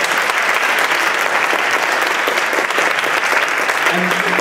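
An audience at a high school women's ensemble spring concert claps steadily and loudly, with a murmur of crowd voices under the applause.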